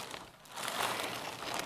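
A plastic bag crinkles and rustles softly up close as it is pulled over tomato seedlings started indoors, the crackle growing busier toward the end.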